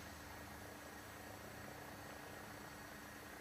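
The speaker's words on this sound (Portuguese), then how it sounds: "vamos iniciar aqui a decolagem na vertical" An AW109SP helicopter lifts off vertically in a flight simulator, giving a steady, dense engine and rotor roar that stays constant throughout with no voices.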